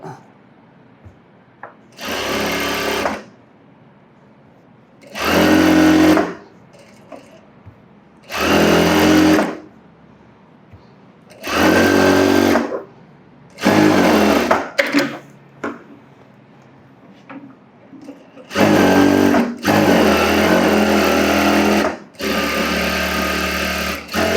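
A sewing machine runs a rough tacking stitch on a blouse in repeated bursts, each a loud, close whir lasting a second or two, separated by quiet pauses, about eight runs in all.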